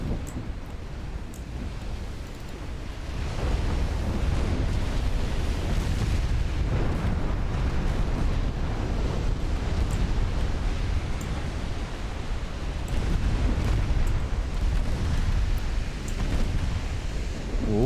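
Naval battle game with an HE shell striking a ship that blows apart, heard as a sustained deep roaring rumble of explosion and fire, broad and loud throughout, swelling slightly midway with no distinct separate blasts.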